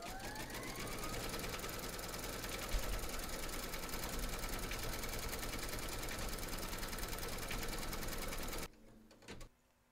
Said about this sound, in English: into your machine, and then stitch round number 3